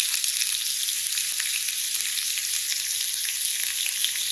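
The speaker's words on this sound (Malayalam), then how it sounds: "ഓയിൽ, കുരുമുളക് പൊടിച്ചത്, സീ സോൾട്ട് നന്നായിട്ട് മിക്സ് ചെയ്തിട്ട് ഗ്രില്ലിംഗ് പാനിലേക്ക് ഇങ്ങനെ ഇട്ട് കൊടുക്കുന്നു" Steak coated in oil, ground black pepper and sea salt sizzles steadily and loudly in a hot grill pan, a continuous bright hiss with faint crackles and no voices.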